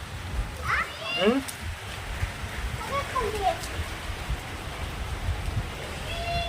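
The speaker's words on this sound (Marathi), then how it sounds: "पाऊस कमी झाला बाबा. पूर्ण पाऊस नाही येणार का." Light rain falls during a family's first monsoon shower, a soft steady hiss under children's chirpy voices and brief calls, fairly quiet and diffuse throughout.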